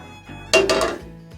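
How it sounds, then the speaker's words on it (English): A thick dollop of baked macaroni and cheese drops into an 8 by 11 baking pan, one soft clattering thud with brief scraping after it, close and fairly loud. "we're just going to put all of that goodness into that pan"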